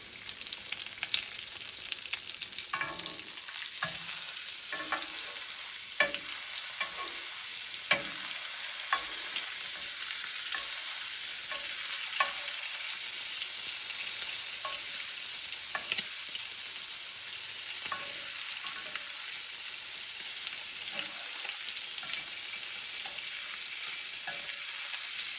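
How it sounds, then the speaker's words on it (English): Bacon and eggs sizzle and fry in a pan, a steady bright hiss with repeated scraping and stirring taps as the food is turned over, no talking. "so now you can flip them over."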